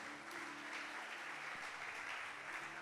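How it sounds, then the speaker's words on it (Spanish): A church congregation applauds, a faint, distant, steady wash of clapping that runs evenly throughout. "denle un aplauso"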